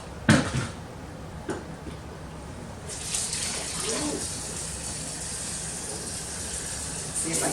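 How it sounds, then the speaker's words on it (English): Salted mustard pickle vegetables get rinsed in a strainer under a sink tap: a thump and clatter at the start, then the tap opens into a steady close rush of running water. "put the strainer in the sink. And then I'm just going to give them a quick bath."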